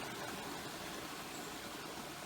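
Creek water rustling steadily in the woods near Swanee Creek, a faint continuous wash of flowing water with no other sounds.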